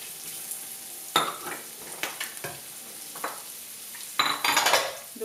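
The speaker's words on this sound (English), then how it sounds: "You just do like a quick stir fry." Carrot and zucchini stir-fried in a pan, with short bursts of sizzling and scraping as the vegetables are tossed, plus scattered clinks of utensil against metal, close and fairly quiet between bursts.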